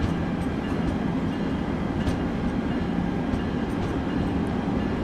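Train passing in the Train Sim World 6 simulator, a loud steady rumble with rolling wheel noise that stays constant throughout, no voices over it.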